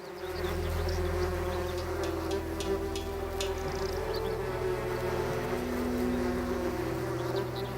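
Wasps buzz continuously and fairly close for several seconds, a dense insect drone with no voices over it.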